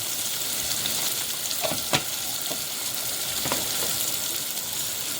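Potato and spinach sabzi sizzles loudly in a pan while being stirred, a steady close frying hiss broken by a few scraping knocks of the spoon against the pan.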